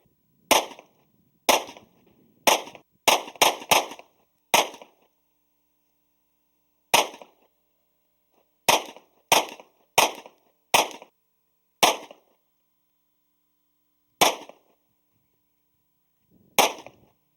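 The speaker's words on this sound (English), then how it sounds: "let's go run a few hundred rounds through it" Ruger LC-9 pistol fired at an outdoor range, sharp loud cracks in uneven bursts, with a quick rapid cluster of shots early on and then single spaced reports, no talking.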